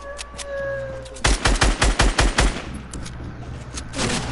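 A rapid burst of about eight loud, evenly spaced gunshots rings out in a video game, framed by quieter ambient noise and a few faint tones before and after.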